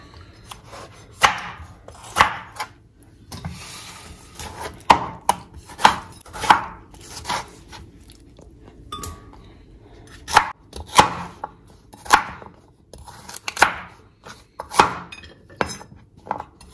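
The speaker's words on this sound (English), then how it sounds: "We start by cutting our tomatoes for blending in them." A knife cuts tomatoes on a board for a beetroot stew, a long run of sharp, close chopping thuds in irregular bursts with brief pauses between.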